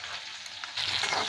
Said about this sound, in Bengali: ভিন্ডিগুলো আমার ভাজা হয়ে গেছে, বেশ ভালো করে ভেজে নিয়েছি।